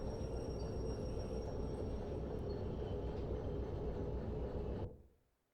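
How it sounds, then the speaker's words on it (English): A train in the video game Derail Valley rumbles as its brakes are applied, a steady, fairly loud low roar that cuts off abruptly near the end into silence. "I'm going to just start applying the brakes here."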